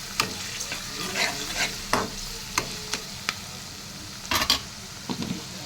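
Onions and half a spoon of turmeric stirred while frying in a pan for an ivy gourd fry, with a steady sizzle under a series of sharp scraping strokes of the spoon against the pan, close and fairly quiet.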